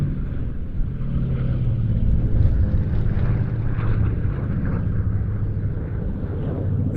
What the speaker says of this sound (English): the flying display debut of this very special L-12A Electra Junior